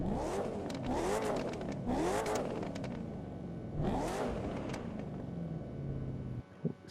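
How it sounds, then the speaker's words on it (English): Repeated loud video game car engine revs in The Crew 2 rise and fall about four times, each followed by crackling pops and bangs of exhaust backfires, with a short burst at the end. "the backfires on this car is amazing"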